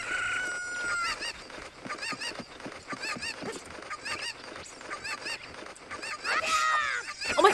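Chickens in Zelda: Ocarina of Time on the 3DS cluck and squawk in a rapid, repeated chatter that swells louder and more frantic toward the end.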